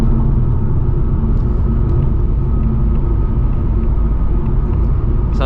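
A 2024 Ford Mustang GT running an E30/E85 ethanol blend accelerates hard in second gear, a loud, steady, dense engine and road roar that holds constant throughout with no talk.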